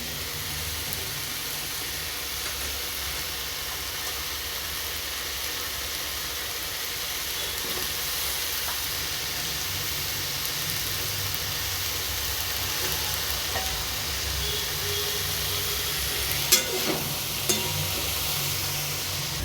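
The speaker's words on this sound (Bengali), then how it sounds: "সব কিছু মিশিয়ে নিয়েছি একটু ভালো করে কষিয়ে নিলাম" Potato and soybean masala cooks in a pan with a steady, even sizzling hiss throughout, near and constant, with only a couple of faint stirring knocks near the end.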